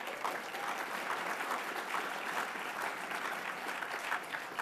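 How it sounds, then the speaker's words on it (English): Sustained audience applause fills the room at a political conference address, a dense, steady wash of many hands clapping at even loudness with no break throughout. "Now, how about a round of applause for that?"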